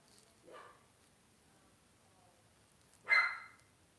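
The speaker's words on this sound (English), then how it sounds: "He's barking." A dog barks twice indoors, a short yip followed by a louder bark about two and a half seconds later, somewhat distant against quiet room tone.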